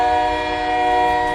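A train horn blares loud and close in one sustained, steady tone.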